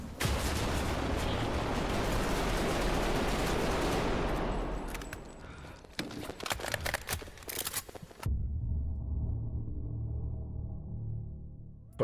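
Gunfire in the Bodycam shooter video game: a dense, loud burst of rapid shots that fades, followed by scattered sharp cracks and then a quieter muffled rumble.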